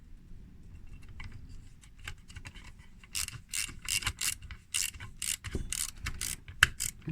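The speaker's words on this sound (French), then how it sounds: "On va venir visser ces parties." Ratcheting clicks of a screwdriver driving screws into plastic parts of an Altaya KITT K2000 model kit, a quiet fiddly start giving way to bursts of rapid close clicking.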